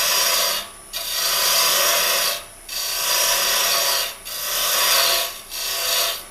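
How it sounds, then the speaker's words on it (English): A round flat carbide cutter scrapes a cove into spinning wood on a lathe, giving a loud, close rasping hiss in four long sustained passes, each broken by a short drop as the tool eases off. "First thing I'm going to use is just the regular round flat carbide cutter to do a simple cove here."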